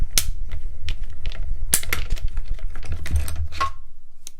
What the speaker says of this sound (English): Our mini Stampin' Cut and Emboss machine.